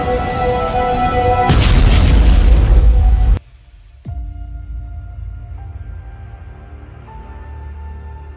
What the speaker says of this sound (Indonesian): pesawat itu meledak bersama dengan ayahnya